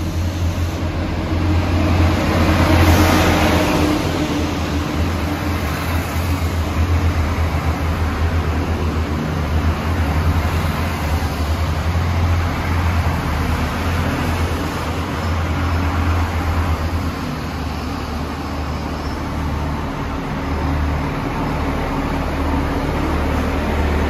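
An Irish Rail Class 29000 diesel train starts up in the Dublin area with a deep, sustained engine drone and a broad roar. The sound is loud and steady for about twenty-four seconds.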